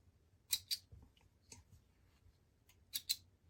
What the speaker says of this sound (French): Nous allons couper également tous les fils qui dépassent